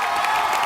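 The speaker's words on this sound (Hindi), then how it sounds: "एक बार जोरदार तालियां कृष्णा," A studio audience on the comedy show Comedy Nights Bachao breaks into a short, dense burst of applause and cheering, a steady wash of clapping that fills the whole moment.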